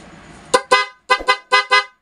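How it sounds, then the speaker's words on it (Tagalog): A PIAA aftermarket car horn sounds in six loud, close honks, paired in three quick double blasts with short silent gaps between them, after a brief stretch of quiet. "So ibusina po natin"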